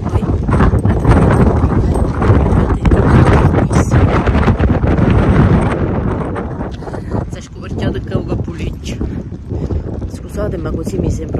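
Strong wind gusts roar and buffet continuously outdoors near a town public garden on a cold day, loud throughout and easing slightly toward the end.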